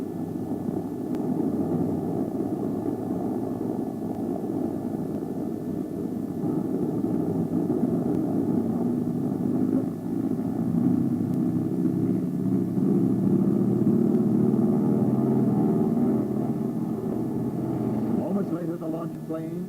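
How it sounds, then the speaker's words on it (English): A launch plane carrying a Ryan Firebee drone drones steadily with a loud, continuous aircraft engine roar and rumble, building slightly toward the end and holding for the whole stretch without a break. "Plane is a receding dot in the sky, reaching for operational altitude."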